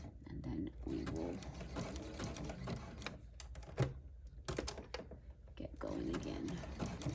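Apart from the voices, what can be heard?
hand-cranked sewing machine stitching satin blanket binding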